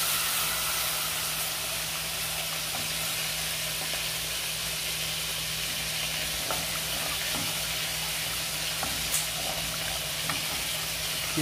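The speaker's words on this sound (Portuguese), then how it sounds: "misturando até engrossar" Milk being stirred into a mac and cheese sauce in a pan, a continuous bright sizzling hiss with faint scraping of the spoon throughout and no talking.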